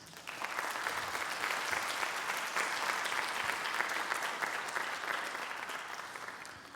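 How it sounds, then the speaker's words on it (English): A room full of people applauds together at an evening foundation event, steady dense clapping rising quickly and holding level for several seconds before starting to taper. "please give yourselves a round of applause"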